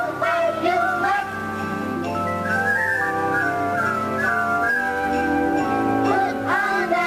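Someone whistles a bright, lilting melody over orchestral accompaniment at a Disneyland Christmas event, with the clear, steady tune running the whole time and no talking.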